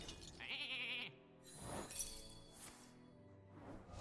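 Sheep bleats from a Hearthstone transformation effect, with a glassy shattering chime at the start and a couple of short, wavering bleats after it, quiet and clean.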